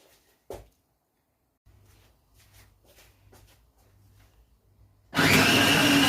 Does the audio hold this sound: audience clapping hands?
no